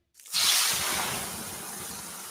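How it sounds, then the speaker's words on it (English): Water poured onto 800-degree sauna rocks bursts into a loud, sustained steam hiss that rises sharply and holds steady, close and alone without talk. "The sound of water being poured on 800-degree rocks."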